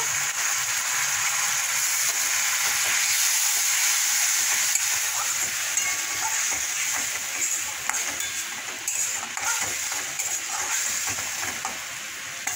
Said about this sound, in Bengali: অল্প একটুখানি এই গরম জল দিয়ে দেবো।